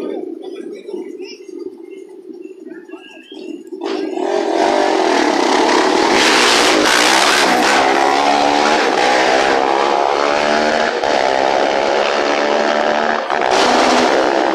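Race cars rev at the ceremonial false start of the Dos Mares 500 off-road race on a seafront malecón, a loud, continuous roar of straining engines with shifting pitch, under an excited commentator's voice throughout.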